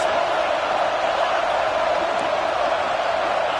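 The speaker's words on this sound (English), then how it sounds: "Listen to this crowd just shaking the girders of this place, trying to help their defense." A packed stadium crowd at an Auburn football game roars loudly and steadily, a dense wall of cheering and shouting that fills the space without a break, with no clear talk over it.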